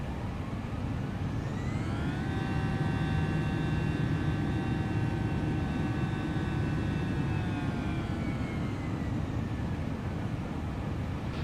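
Steady broadband roar of a British Airways Airbus's engines in flight, with a tonal whine that rises and holds as throttle increases, continuous and close inside the cabin.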